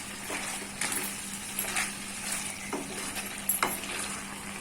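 Chicken frying in a pan with onion paste, a steady low sizzle under soft scraping and light clinks as a spoon stirs through the mixture, fairly quiet and close.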